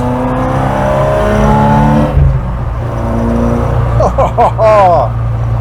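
An Opel Manta B2 16v on an open road gives a steady, loud engine drone that rises as it accelerates, with a shift in tone partway through.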